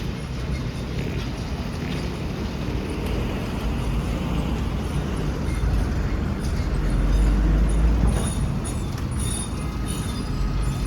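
Low rumbling of a train rolling in, a broad steady roar that swells toward the end, with faint clatter and no talking.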